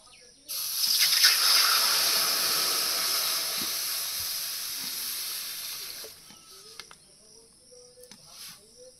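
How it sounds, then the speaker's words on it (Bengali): Loud, steady hiss of water heating in a wok over a clay stove for boiling pumpkin greens, starting abruptly and holding for several seconds before cutting off to quieter background. "উনুন ধরিয়ে নিয়েছে, এবার কড়াইতে জল দিয়ে কুমড়ো শাকগুলো সিদ্ধ করে নেব।"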